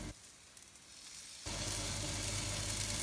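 Meloui (msemen) flatbread is laid into a hot pan. A quiet start gives way abruptly to a loud, steady sizzle that continues to the end.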